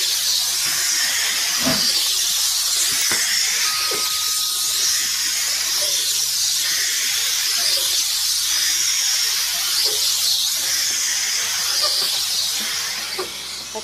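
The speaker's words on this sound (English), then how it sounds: "to show you how to use the handheld steam cleaner" A Black and Decker handheld steam cleaner hisses steadily and loudly for about fourteen seconds, with faint clicks and knocks beneath the continuous spray.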